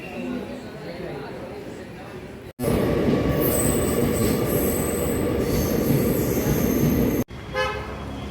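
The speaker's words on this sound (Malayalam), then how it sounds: "നമ്മൾ എറണാകുളം പൂനെ വണ്ടി അവിടെ എത്തിയിട്ടുണ്ട്" A superfast express train rumbles loudly past at close range through a railway station, wheels squealing and a horn tooting, with a quieter stretch of station noise before and after.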